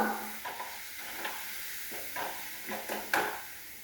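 Fish pickle masala being stirred in a pan, soft scraping strokes repeating every half second or so over a steady low sizzle, close and fairly quiet, with no talking.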